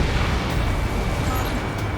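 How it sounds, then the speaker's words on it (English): An explosion in the Ace Combat 7 air-combat video game, a loud, dense rumbling blast that fills the whole moment with broadband roar and no clear start or end, as if mid-detonation. "An explosion inside!"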